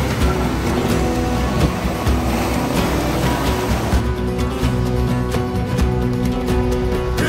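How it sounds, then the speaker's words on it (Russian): Surf of the Caribbean Sea, a steady, dense wash of waves with a constant low rumble and hiss, moderately loud and unbroken, with no one speaking. "Шумит Карибское море."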